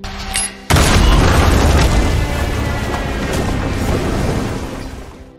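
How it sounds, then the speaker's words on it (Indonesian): A huge, deep bomb explosion in a John Wick film bursts after a brief lead-in, its rumbling roar lingering for several seconds before fading away. "Javier juga sempat menanam bom hingga terjadilah ledakan besar."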